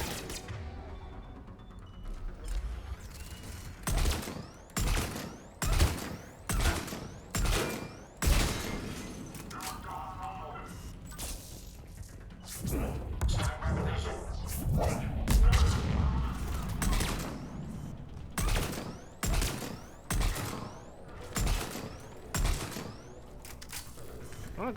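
Repeated bursts of submachine-gun fire in the sci-fi shooter Mass Effect 3, loud and close, coming in short rapid volleys with brief gaps across the whole stretch, with occasional thuds between them.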